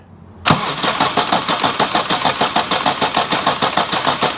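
A Suzuki Feroza engine cranks steadily without oil pressure after a sudden start, the starter turning it over in an even, rapid chugging rhythm that stays loud and close throughout, with no voices.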